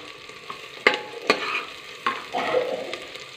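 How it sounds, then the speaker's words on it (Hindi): Two finely chopped onions stir-fried in a pan until light brown, a soft steady sizzle broken by several sharp spoon scrapes and clacks against the pan, with no talking. "चला दूंगी, इसको लाइट ब्राउन होने तक भून लेंगे।"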